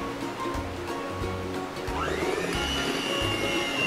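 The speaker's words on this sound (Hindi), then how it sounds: "अब यहाँ पे मैं गरम पानी ऐड करूंगी। गरम पानी मैंने यहाँ ऐड किया है 1/4 कप" A quarter cup of hot water poured into pineapple cake batter gives a steady, close, rushing splash that rises in pitch as the container fills, with no talk over it.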